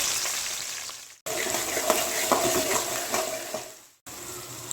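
Onions, green chillies and curry leaves fry in hot oil with a continuous close, bright sizzle and a few stirring clinks, broken twice by short moments of silence.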